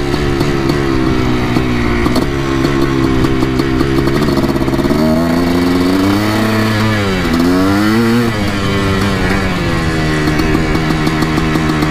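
A Yamaha YZ490 dirt bike engine runs loud and close, its buzzing two-stroke note rising and falling through several revs over a steady idle.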